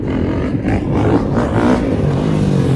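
A Honda CRF450R dirt bike engine revs hard during a wheelie, a loud, close, rough roar that stays steady with rattling mechanical clatter mixed in.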